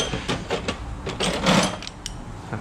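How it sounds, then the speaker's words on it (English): During a 5.7L LS1 engine teardown, a half-inch ratchet gives a series of close, rapid clicking bursts in an uneven rhythm, mixed with metallic workshop clatter. "Half-inch ratchet."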